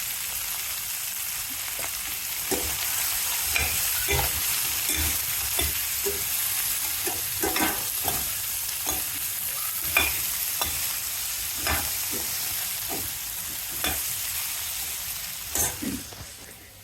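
Okra curry stir-frying in hot oil with turmeric in a home kitchen: a steady close sizzle with repeated scraping and knocking of a spatula against the pan at an uneven rhythm, no talking.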